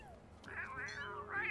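A ginger cat in The Sims 3 game gives two drawn-out, rising-and-falling meows, close and clear over a faint low background hum.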